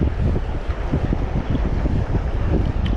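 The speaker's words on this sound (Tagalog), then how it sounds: "Ang laki ng alon." A boat rides big sea waves, with a steady roar of wind buffeting the microphone and a deep rumbling wash of water that stays loud and unbroken throughout.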